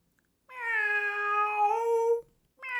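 A cat lets out one long, clear meow close by. It holds a steady pitch for nearly two seconds, rising slightly before it stops, with silence around it.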